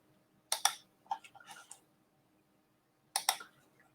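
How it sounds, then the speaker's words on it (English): Keys on a computer keyboard click in a few short quiet bursts, one cluster of taps early on, a pause of silence, then another brief flurry of keystrokes. "I am just typing in here right now."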